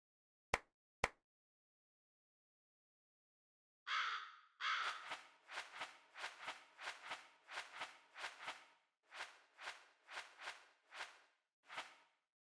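Kasugai crow from the Demon Slayer Hinokami Chronicles video game, giving a burst of roughly a dozen rapid, loud caws in a rhythmic series, preceded by two sharp clicks and a brief whoosh.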